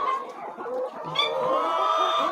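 Chickens feeding on a poultry farm cluck and chatter softly, a busy mix of overlapping bird calls at moderate distance with a few sharper squawks.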